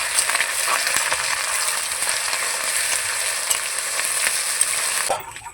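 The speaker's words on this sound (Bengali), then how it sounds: "পেঁয়াজের সঙ্গে রসুন আর আদা বাটাটাকে কষিয়ে নেব" Onion frying with garlic and ginger paste in a pan for a soybean-and-yogurt curry: a steady close sizzle with stirring scrapes throughout, stopping abruptly near the end.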